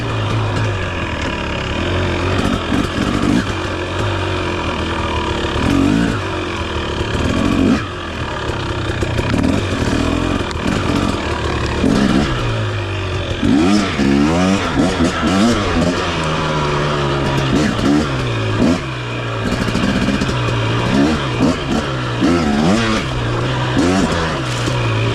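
A 2023 KTM 250 XC dirt bike engine burbles nearby and is blipped repeatedly, with sharp throttle rises and falls breaking up a steady idle throughout.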